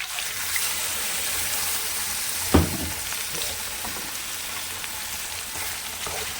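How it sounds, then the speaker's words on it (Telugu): Ridge gourd, tomato and tamarind chutney hits a hot tempering of curry and drumstick leaves, and a brief loud splash gives way to steady, even sizzling that carries on alone. "తాలింపు అయితే మంచిగా వేగింది. ఇప్పుడు చట్నీ పోసేద్దాం."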